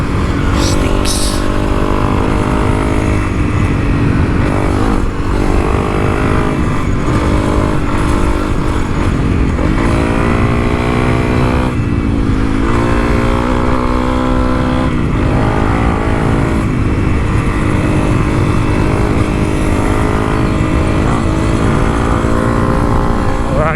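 A Honda CRF300L Rally motorcycle is ridden at speed, its engine droning loudly and continuously with revs that rise and fall, over a constant rush of wind.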